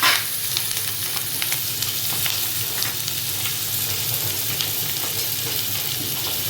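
Mint leaves and rock salt sautéing in oil in a pan for paneer biryani, giving a steady, close sizzle and crackle that runs unbroken, with light stirring scrapes and no talking.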